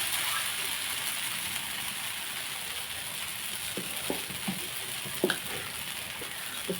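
Ragi dosa batter frying on a hot pan, a steady broadband sizzle throughout with a few soft clinks and scrapes, no talking.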